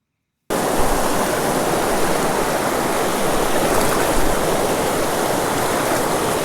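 Fast-flowing stream water rushing steadily and loudly right up close, a dense continuous wash with no voices, starting after a brief moment of silence.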